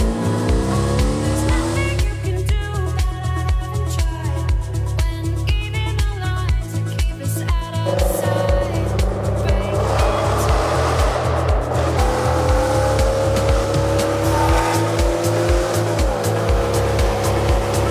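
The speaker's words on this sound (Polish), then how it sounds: "Ale Tomek z najgłośniejszego auta na Bałkanach zdaje się w ogóle tym nie przejął, hucznie uciekając z Unii Europejskiej." The loudest car of a Balkan road trip, heard on a border crossing, roars loudly as it drives off, its engine revving up through several gear changes with a rising, pulsing exhaust note, close and alone.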